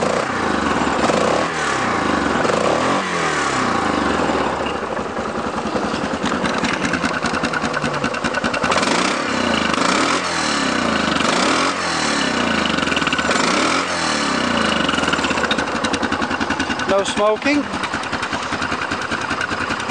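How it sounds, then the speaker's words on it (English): A 2008 Yamaha Grizzly 660 camo ATV with a single-cylinder engine idles steadily, then revs up and back down in several rhythmic surges, loud and close throughout with someone talking over it. "Like I said, starts easily, idles good, revs freely."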